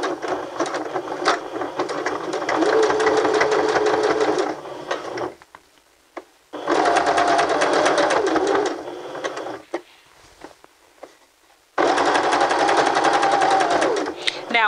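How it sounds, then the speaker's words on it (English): A sewing machine runs a zigzag stitch along a stretch-fabric hem, in three long loud bursts of rapid needle chatter separated by brief pauses. "going to stitch all the way from this end to the other end with our zigzag stitch"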